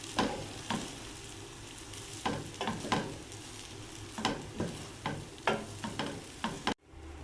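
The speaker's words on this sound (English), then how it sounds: "Now add in the boiled rice. 2 1/2 cups of rice. Give it all a good mix." Boiled rice stirred in a hot frying pan with sautéed onions, steady sizzling under repeated scraping strokes of a spoon against the pan, close and fairly quiet, ending in a sudden cut.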